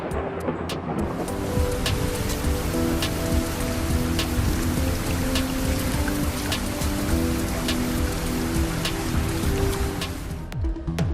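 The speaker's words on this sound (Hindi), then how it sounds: "लाहौर में मूसलाधार बारिश का एक और स्पेल।" Heavy monsoon downpour in Lahore pours steadily and loudly for the whole stretch, a dense continuous hiss of rain on surfaces with scattered sharper drip impacts and no voices.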